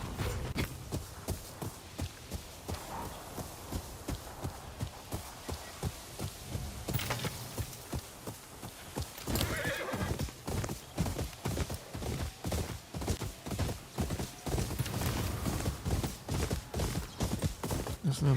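Horse hooves clip-clop in a steady, brisk rhythm in the samurai video game Ghost of Yotei, running continuously at close range with some ambient game sounds mixed in.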